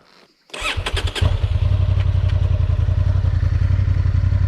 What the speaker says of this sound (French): Allez, lance le moteur, là.